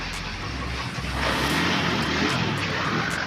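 A Honda BEAT FI scooter engine with a faulty ignition switch runs steadily at idle, a continuous close-up hum that swells slightly louder partway through, with no talk over it.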